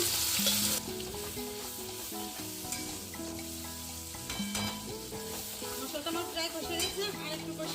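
Spiced masala with a little yogurt and sugar sizzles and fries steadily in a pan for a Bengali chicken kosha, a continuous crackle with intermittent stirring scrapes beneath background music.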